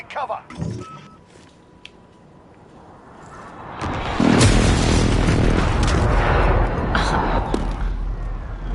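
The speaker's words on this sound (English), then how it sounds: "Enemy precision airstrike. Take cover." Precision airstrike explosions in Call of Duty Modern Warfare arrive midway as a loud, rolling roar of blasts that swells and keeps rumbling, after a quieter stretch with brief clicks and a voice.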